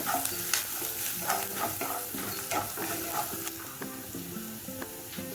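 Turmeric and salt are stirred in a hot pan for idli upma, with rhythmic scraping strokes of a spoon over a continuous close sizzle and no talking.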